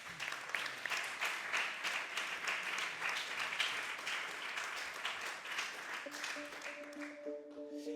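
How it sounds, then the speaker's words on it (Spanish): Audience applause sending off guests at a live Spanish-language podcast recording, steady dense clapping from a room of people that carries on for several seconds before starting to thin, with a faint tonal hum entering near the end. "Vamos a despedirles con otro aplauso"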